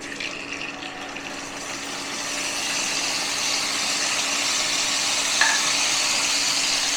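Torn boiled egg pieces fry in hot mustard oil in a wok, a steady, close hiss and crackle that grows slightly louder partway through and runs unbroken without any talk.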